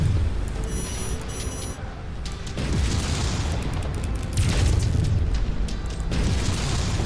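An ammo explosion on an enemy mech in MechWarrior 5: Mercenaries, heavy booming blasts and rumbling bursts over constant mechanical battle noise, loud and close.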